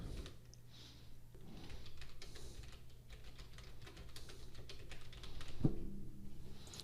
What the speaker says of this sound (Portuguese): Eu vou então digitar aqui os valores todos